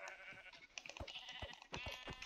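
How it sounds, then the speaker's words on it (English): Sheep in the Minecraft video game bleat as they are struck and killed, several short sharp game-sound bleats and hit thuds in quick succession, fairly loud with no talking. "I'm killing sheep."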